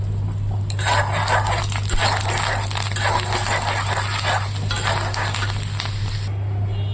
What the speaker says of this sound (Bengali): পাঁপড়টা এবার আমি ভেজে নেব তো কড়াইটা বসিয়ে দিয়েছি বসিয়ে দিয়েছি একটু রিফাইন তেল এবার আমি পাঁপড়টা দিয়ে দেবো